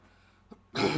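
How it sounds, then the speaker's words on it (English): A brief throat-clearing sound, a short rasping hack that starts quietly and then turns loud and harsh. "Sorry, I just need to clear my throat for a second."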